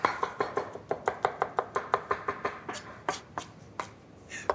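Knife coarsely chopping an aubergine on a board: a steady run of about fifteen crisp, close, evenly spaced chops that slow and thin out toward the end.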